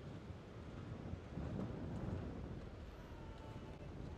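Strong wind roars and buffets the microphone steadily throughout at Boracay Newcoast, Philippines, a dense rushing rumble with no clear speech.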